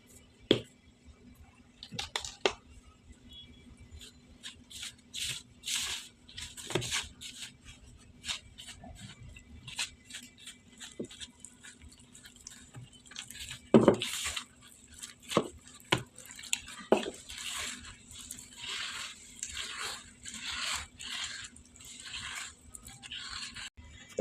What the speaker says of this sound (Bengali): তো হয়ে গেল আমার বেসন মাখা